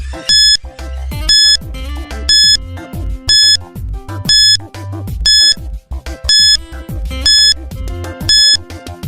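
A quiz countdown timer track plays loudly: regular bright electronic beeps repeating about once a second over a pulsing rhythmic beat, steady throughout with no voices.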